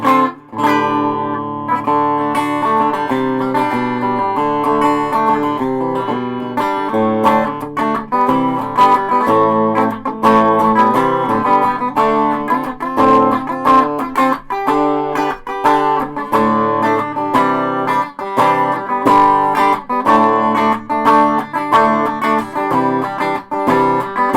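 An Eastwood Monolith electric guitar with a P90 pickup plays through distortion continuously, thick sustained chords and riffs with a gritty, saturated tone at steady loudness.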